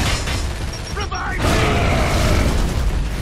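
A frag grenade explodes in the Gears of War: Judgment campaign, a loud, sudden boom that cuts through busy battle noise and then rumbles on as dense, sustained roar and gunfire-like clatter.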